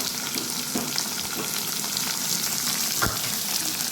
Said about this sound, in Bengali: আলু আর পেঁয়াজ আমি একসাথে কষাবো